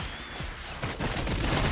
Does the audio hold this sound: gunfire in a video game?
yes